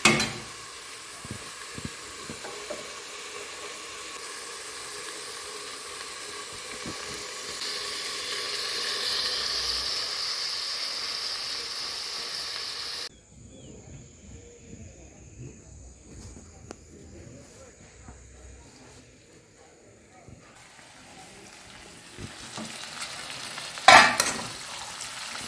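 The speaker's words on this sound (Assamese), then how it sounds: "অলপ ফ্ৰাই হ'বলৈ ঢাকি দিওঁ 10 মিনিটমান" Pork frying in a covered pan over medium heat, a steady broad sizzle that drops to a quieter, muffled hiss partway through, with a brief clatter near the end and no talk.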